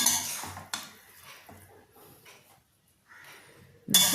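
A utensil gently mixes egg prawn biryani in a pot, intermittent soft scrapes and clinks of metal against the pot with brief pauses, and a louder clatter at the end.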